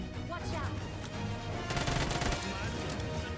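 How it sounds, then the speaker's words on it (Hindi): Gunfire in the mobile battle royale game BGMI, a steady dense run of shots coming from a room below, loud and continuous over a busy in-game background with some voice. "तभी मुझे मेरे नीचे वाले रूम से बंदूक का साउंड आता है।"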